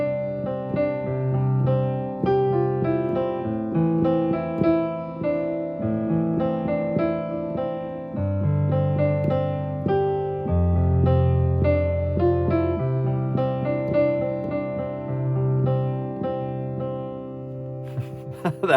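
A piano plays a broken eighth-note rhythm in 4/4, with some of the eight notes dropped to form varied patterns, chords shifting over a sustained low end, played solo and clearly.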